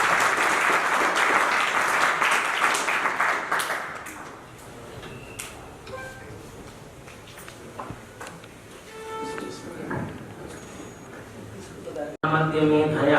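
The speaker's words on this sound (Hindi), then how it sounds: "एक बार जोरदार तालियों से" Loud audience applause at a national seminar for Swami Dayanand Saraswati's birth anniversary, dense clapping for about four seconds that thins into scattered claps and room noise, then resumes sharply at the end.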